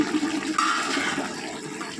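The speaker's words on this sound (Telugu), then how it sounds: "వాటర్ వేసి ఒకసారి కలుపుకొని మూత పెట్టి బాగా ఉడకనివ్వాలి" A continuous gushing of water poured into a cooking pot of egg, drumstick and dried prawn curry, close and fairly loud, with a bubbling, splashing texture throughout.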